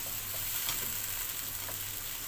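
Shrimp frying in a pan for shrimp béchamel pasta, a steady close sizzle with a few soft stirring scrapes, no voices.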